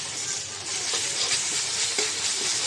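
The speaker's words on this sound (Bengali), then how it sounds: "পেঁয়াজ আর কাঁচামরিচ হালকা করে ভেজে নিলাম।" Onions and green chillies frying in a pan, a steady bright sizzle with a few soft stirring scrapes, close and continuous without any talk.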